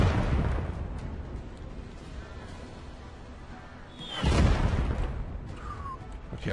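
Cannon fire in the video game Last Train Home: a single heavy boom near the middle, over a steady bed of game ambience and rumble.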